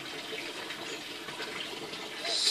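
Water pours into an aquaponics grow bed as it fills toward an auto siphon, making a steady, close trickling splash that swells slightly toward the end.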